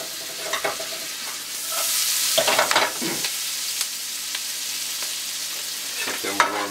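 PEI mussels and fresh basil leaves sizzling and frying in a pan, a steady close hiss broken by scraping stirs and soft clinks of shells.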